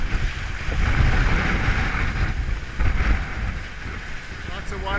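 Rough seas and gusting wind batter a sailboat lying at anchor off Molokai, Hawaii: a steady broad roar of surf and wind buffeting the microphone, close and fairly loud, rising and easing in waves.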